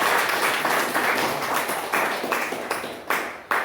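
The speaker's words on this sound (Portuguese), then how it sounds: "Aplaudo o Senhor." A church congregation at a Portuguese-language worship service claps in a steady rhythmic beat, the sharp bursts repeating about twice a second and echoing in the hall.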